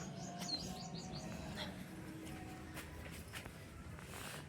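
A small bird near its nest of chicks gives a few quick high chirps early on, faint against quiet room ambience with soft shuffling.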